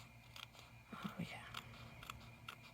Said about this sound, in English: Where's my other little scissors?